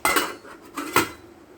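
A lid goes onto a pot of eggplant and tomato curry, heard as a few close metallic clanks and a rattling settle in quick succession.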